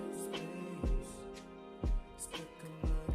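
Strings played on a MIDI keyboard in Bandlab hold soft, sustained chords, with a low thump recurring about once a second underneath. The sound is quiet and there is no talk.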